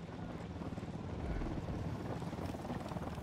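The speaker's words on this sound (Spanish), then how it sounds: "Vienen los helicópteros" Helicopters approach in the Ghost Recon video game, a steady, dense rotor rumble with wind-like noise that holds fairly constant and faint throughout, with no speech over it.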